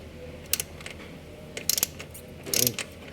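Wrench ratchet clicking in short bursts while loosening the oil filler bolt on a Yamaha NMAX V2 scooter, three quick ratcheting runs, close and fairly quiet, no talking.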